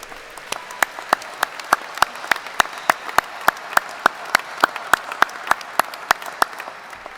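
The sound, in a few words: audience applause for graduates' parents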